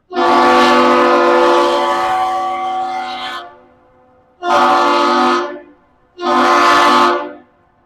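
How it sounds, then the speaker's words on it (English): Three loud blasts of a deep ship's whistle, one long and two shorter, each separated by a brief pause, signaling a lift bridge as the ship Great Republic arrives in Duluth. "Nice whistle there from the captain to the lift bridge."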